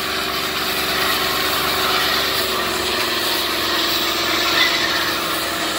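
A car engine holds a high, steady rev before a neutral drop, a strained whine sitting over a constant rumble with no break or gaps.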